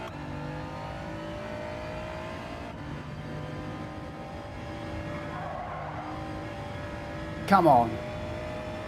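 BMW race car engine in Gran Turismo 7 drones steadily during endurance racing, its pitch shifting as it accelerates, with a brief tire squeal near the end while someone talks over it.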